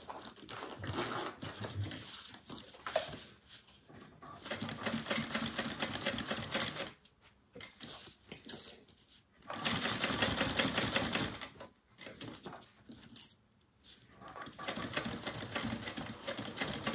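A sewing machine stitches a fabric satchel in rapid, buzzing bursts of several seconds each, separated by short pauses, loud and close with no talking.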